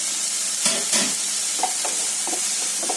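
Chicken fried rice with soy sauce cooking in a pan, a soft steady sizzle broken by several short clatters and scrapes of stirring.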